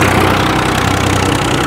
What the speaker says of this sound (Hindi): ट्रैक्टर पे बिना किसी लोड पड़े ये मशीन बहुत ही शानदार चल रही है